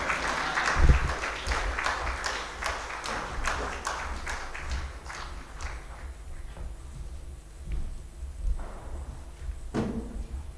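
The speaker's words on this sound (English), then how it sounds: "Can we clap our hands as our guest of honor is coming into the hall?" An audience at the Zanzibar Trade and Investment Forum 2022 applauds as the guest of honor enters the hall, a moderate clapping that gradually thins out into scattered claps and shuffling noises.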